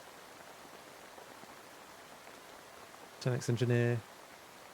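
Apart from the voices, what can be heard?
rain sounds played for focus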